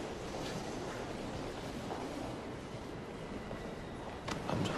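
Subway station ambience in a romantic comedy film scene: a steady, fairly loud rumbling wash of train and platform noise throughout, swelling with a louder rush near the end, with no talking.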